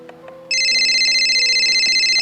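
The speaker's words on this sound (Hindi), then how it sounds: "देख ये फोन बाज गया" A telephone rings in a Haryanvi household, a steady electronic trill that cuts in abruptly after a moment of quiet and keeps ringing loud and continuous, with faint background voices before it starts.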